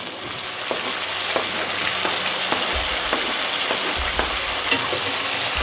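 Onions sautéing in a pan for a sambar with lentils and ridge gourd, a steady close sizzle and crackle running throughout with light stirring scrapes, no voices.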